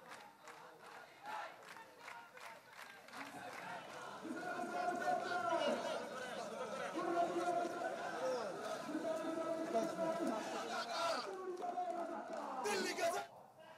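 A street protest march by a student group in Gopalganj, with a large crowd chanting and shouting slogans in rhythmic waves, steady and moderately distant for most of the stretch.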